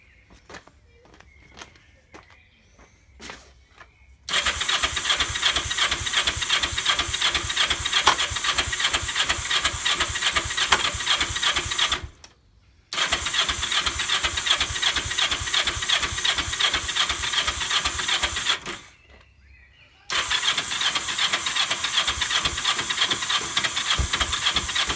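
A Kawasaki GPZ500S motorcycle engine starts after a few short cranking bursts, then runs loudly and steadily at close range, cutting out twice briefly before catching again.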